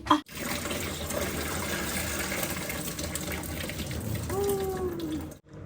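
Cold water pours steadily from a tap over freshly cooked pasta in a sink, a continuous close rushing splash that runs throughout.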